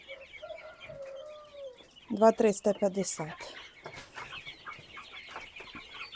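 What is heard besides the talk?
rooster clucking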